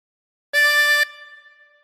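A single harmonica note drawn by breathing in through hole 4, held steady and bright for about half a second, close and alone, then a short fading ring.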